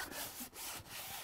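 Dry, steady scraping as the back of a soil-pigment art paper is rubbed to pull loose soil off, a continuous close rasping texture broken by two brief pauses, quiet and alone.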